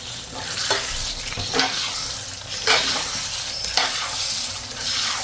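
Boiled potatoes go into a sizzling tadka. The steady hiss of frying oil runs throughout, with several soft, brief bursts as the pieces drop in and are stirred nearby.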